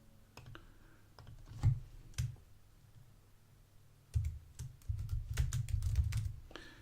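Computer keyboard typing and mouse clicking at a desk, scattered quiet clicks and a few taps, then a denser burst of keystrokes near the end, fairly faint and without talking.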